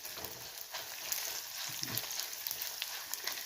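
Dry red chillies fry in a pan for a spinach-onion chutney, giving a soft, steady sizzle with faint crackles and occasional light scrapes, close by and without any talk.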